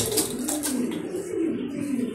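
Racing pigeons in a large loft, low throaty cooing that rolls on continuously and close by, with a few brief flutters or rustles early on and no talking.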